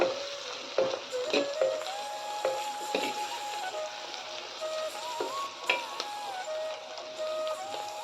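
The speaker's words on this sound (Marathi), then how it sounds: "हे बघा आपला कांदा छान होत आलाय त्यात घालूया आपण किंचित अशी हळद याला एकदा परतून घेऊया" Chopped onion with a pinch of turmeric sautéing in a pan for a wild greens dish, a soft steady sizzle broken by a few clicks and scrapes of stirring, with faint tonal chirps in the background.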